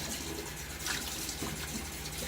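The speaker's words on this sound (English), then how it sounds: "And this is also cleaning out and rinsing out the brush." Tap water runs steadily while a shaving bowl and brush are rinsed out, a continuous splashing flow with a few brief louder splashes, close and even, with no voices.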